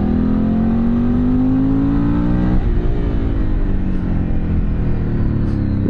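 A Cagiva Elefant 750 motorcycle being ridden, its engine droning loud and steady with a rising then shifting pitch and continuous wind rush, with no voices.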